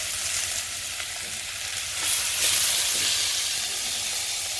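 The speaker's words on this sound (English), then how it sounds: "Now you just stir the tomato" Tomato and fresh chili fry in a pan with a loud, steady hiss of sizzling and steam that swells briefly midway, broken by light stirring, with no voices.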